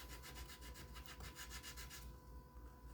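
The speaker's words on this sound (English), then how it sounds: "So we'll just sand that right on off." Close, quiet sanding of a plastic toy part: quick back-and-forth rubbing strokes in an even rhythm that stop abruptly partway through.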